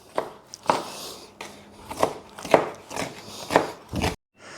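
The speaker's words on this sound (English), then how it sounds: "So get all your bits that you didn't use, finely chop it up." Leftover cabbage scraps being finely chopped with a knife on a board: a series of close, sharp chopping knocks in an irregular rhythm, about eight strikes, with brief pauses between.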